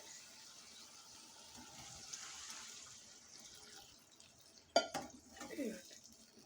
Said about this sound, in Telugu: దీంట్లో వాటర్ పోసేసుకుందాం